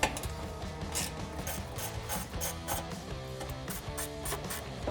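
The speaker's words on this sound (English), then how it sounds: "we can remove these 3 7mm screws that hold in our reflector" A 7mm socket removes reflector screws under the rear bumper of a Jeep Gladiator JT, producing a rapid, continuous rubbing and ratcheting rasp with a steady mechanical rhythm throughout.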